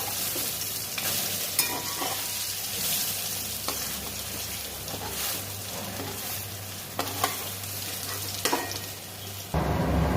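Lentil fritters (bora) frying in oil in a wok, a steady close crackling sizzle with intermittent scraping and clinks of a spatula, ending in a brief louder clatter.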